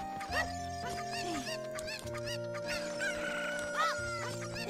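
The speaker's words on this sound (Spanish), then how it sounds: "Fijaros las gallinas. No las han remodelado ni un mínimo." Chickens clucking in the Zelda Ocarina of Time 3D video game, several short bird calls popping up over steady game music and background tones, moderately loud and close.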